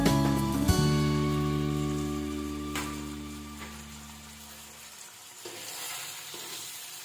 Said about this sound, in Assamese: বিলাহীখিনি অলপ সময় সিজিব লাগিব।